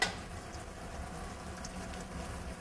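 Tuna meatballs fry in a pan of oil, giving a soft, even sizzle close by that holds steady throughout with no talking.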